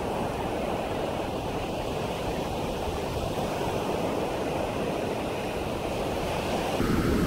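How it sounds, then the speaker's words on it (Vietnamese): Rough surf breaks at a cold, choppy beach in Da Nang, a dense continuous roar of waves mixed with wind buffeting the microphone, swelling slightly louder near the end. "Lạnh lắm mà biển động nữa."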